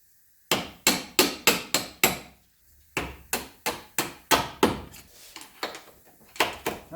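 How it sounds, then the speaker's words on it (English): A hammer pounds a tight upper control arm bolt out of the suspension of a Mercedes W126, with about seventeen sharp, close metallic blows in two rhythmic bursts separated by a short pause. "Let's see if I can't jiggle the control arm and pull that bolt out of there. I'm going to offer up some gentle persuasion."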